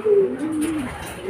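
Pigeon cooing inside a racing loft, a soft low murmuring coo rising and falling across the moment, fairly close and clear with faint background noise.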